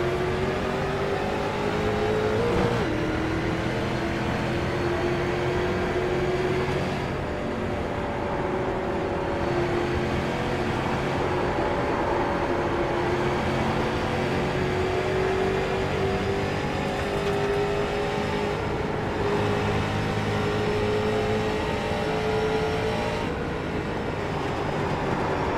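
Street stock race cars in the iRacing video game run their first lap at Phoenix, a steady dense drone of engines holding level with slowly shifting pitch throughout.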